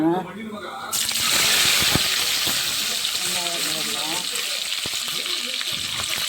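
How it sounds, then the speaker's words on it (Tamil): Small onions fry in a pan for prawn biryani, a steady close sizzle starting suddenly and continuing throughout, with occasional stirring clinks while someone talks over it. "வெங்காயம் நல்லா சிவப்பாகுது"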